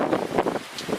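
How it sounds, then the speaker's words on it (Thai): Strong typhoon wind from Typhoon Hagibis gusts outdoors in Kawagoe, a broad rushing roar buffeting the microphone in uneven surges. "โอ้โหลมมันมาแล้ว ข้างนอกก็จะประมาณนี้ลมกำลังมา"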